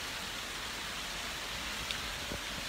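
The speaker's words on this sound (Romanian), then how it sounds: "Sunt la un balcon de la care admir ploaia" Steady rain falls, heard from a balcony as a dense, even hiss of drops with no pauses and no voices.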